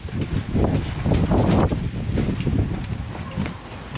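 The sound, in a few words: strong wind blowing against a tent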